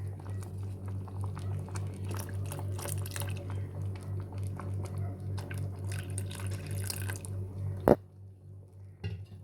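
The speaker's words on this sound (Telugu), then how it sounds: "ఇప్పుడు ఇందులో మనం పాలు పోసేసుకుందాం" Milk pours into sago payasam in a steady, close liquid gurgle that runs for several seconds, then cuts off, leaving a brief drip and a faint clink.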